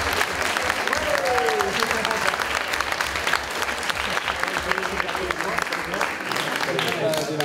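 Audience applause for the finalists of a student eloquence contest final in Lille, a dense, steady clapping crowd filling the hall from start to finish with faint voices mixed in.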